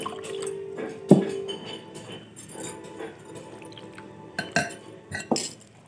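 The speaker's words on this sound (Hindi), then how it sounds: "और इसमें अब 1/2 कप पानी ऐड करूँगी मैं" Half a cup of water is added to wheat flour in a bowl for egg paratha batter, with faint trickling and dripping punctuated by a few sharp clinks of a spoon or utensil against the dish.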